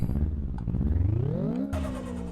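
A car engine in the video game Apex Point revs up in rising pitch, climbing steadily before shifting into a higher, brighter whine; loud and close, no talking.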